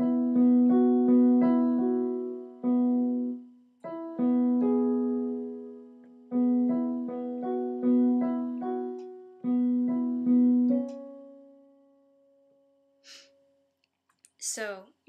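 Both hands play a piano arrangement: repeated chords and a melody in short phrases, clear and close, then fading out into silence near the end.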